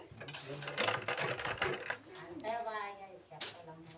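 Sewing machine stitching a blouse, bursts of rapid mechanical clatter broken by pauses, with someone talking over and between the runs.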